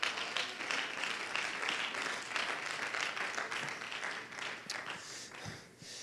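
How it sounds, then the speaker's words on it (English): Church congregation clapping in praise during a service, a sustained fairly loud patter of many hands across the whole stretch, tapering near the end. "Give him a clap offering of praise"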